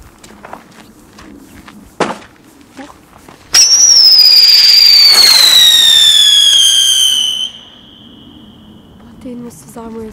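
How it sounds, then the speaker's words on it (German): A Tornado firework ignites at Christmas with a loud screeching whistle that slowly falls in pitch, mixed with crackling bursts for several seconds before fading. Footsteps and quiet voices are heard before and after. "Zünden wir doch jetzt mal hier den Tornado."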